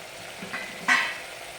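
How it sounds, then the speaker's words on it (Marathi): Masala roasting in oil in a pan, a soft steady sizzle with one brief louder burst of frying as it is stirred, no voices. "आपला मसाला छान भाजलेला आहे तेल सुटतंय"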